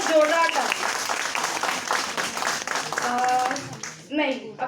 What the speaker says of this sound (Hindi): ताली, बहुत जोरदार ताली।